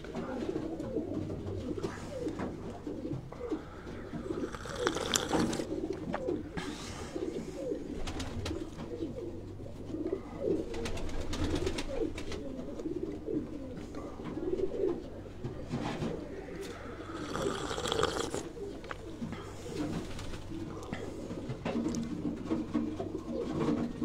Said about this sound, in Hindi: ये दोस्तों ये भी सियालकोट की बड़ी जबरदस्त ब्रीड अली वाले कबूतर